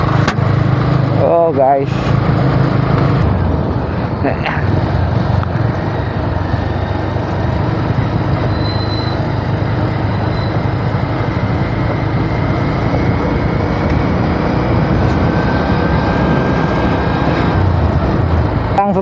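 A motorcycle cruises at low speed on a road near Diphu in Karbi Anglong, its engine a steady close drone with wind rush, while a rider talks over it throughout.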